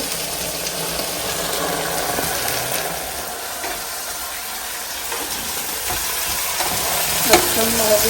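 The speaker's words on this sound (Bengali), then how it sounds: "আর এখানে আছে মরিচ এগুলো খেতে ভালোই লাগে একটু ফ্রাই করে নিব" Vegetables and green chillies frying in a pan at home, a loud continuous sizzle and crackle with occasional utensil scrapes and a sharp clink near the end, no voices.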